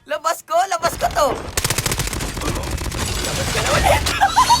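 Rapid automatic gunfire blazes in a dense, loud burst from an online shooter game, following a few seconds of excited shouting, and continuous shots fill the rest of the moment.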